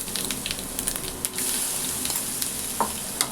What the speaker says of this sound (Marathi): आणि हे व्यवस्थित फ्राय करायचे